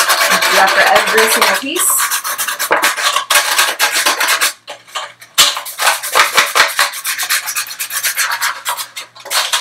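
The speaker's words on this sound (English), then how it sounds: "I'm going to go ahead and just sand the surface of the plastic just a little bit so that the paint sticks." Sandpaper rubbed over a plastic surface to rough it up before painting, making loud, continuous scratchy rasping strokes close by, with a brief pause midway and a few words spoken over it.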